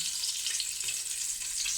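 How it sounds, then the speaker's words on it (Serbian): Bacon strips frying in hot lard give off an unbroken, close sizzle with fine crackles and occasional soft pops, steady in level and free of speech. "Evo, slanenica se lepo prži"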